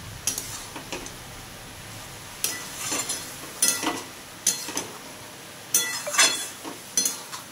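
Spices and turmeric being stirred in a pan for chana masala, a spoon scraping and clinking against the metal in short, irregular bursts that grow busier toward the end, close and fairly quiet, with no talking.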